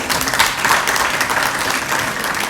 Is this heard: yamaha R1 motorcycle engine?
no